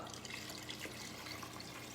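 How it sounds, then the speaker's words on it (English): Water poured into a soup pot for lemon orzo chicken soup, a steady broadband splashing rush lasting throughout, fairly quiet and close, with no talk over it. "And then I'm gonna add the water."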